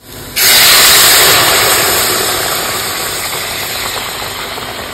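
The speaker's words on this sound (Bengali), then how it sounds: "একটু উষ্ণ গরম জল দিয়ে দেব" Warm water hits sizzling fried spices in a snakehead fish curry with taro and lentil dumplings, bursting into a sudden loud hiss that holds and slowly fades over several seconds.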